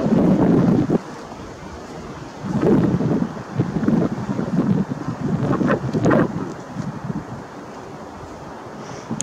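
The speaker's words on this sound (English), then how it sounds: "It is super windy here." Strong wind buffets the microphone in loud, low rumbling gusts that swell and ease, with no talk.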